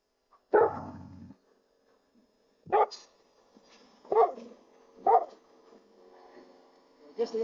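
A dog on a playground barks and whimpers at a hovering drone, giving one loud bark and then several shorter yelps and whines spaced a second or two apart, fairly close, with quiet gaps between.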